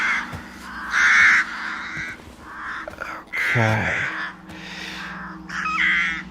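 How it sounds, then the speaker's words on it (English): Crows cawing in a series of harsh calls, some near and loud, over a steady low hum, with brief speech mixed in. "are crows known to sing? Not like this."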